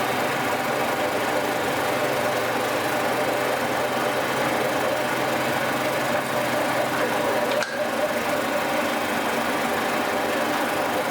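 A line boring machine runs steadily while boring a bore, a continuous mechanical drone with a rhythmic knocking hum and a brief clunk near the end, close and loud with no talk.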